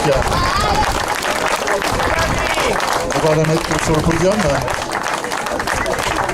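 A crowd at a girls' singles final applauds a podium finisher during the medal ceremony. Steady clapping runs throughout under an announcer speaking French over the sound system, with other voices around.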